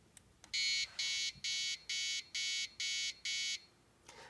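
An Arduino-controlled motion sensor alarm sounds in seven evenly spaced loud beeps, steady and piercing, followed by silence.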